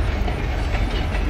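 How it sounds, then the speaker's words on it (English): A passing train rumbles and clatters steadily, a loud continuous mechanical rattle close by with no voices. "see this awesome train."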